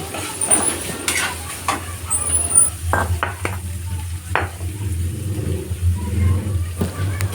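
Snail meat (leddeg) frying in added cooking oil for an Ilocano sautéed snail dish, with steady low sizzling under repeated scraping stir strokes of a utensil in the pan, close and moderately loud, no talk.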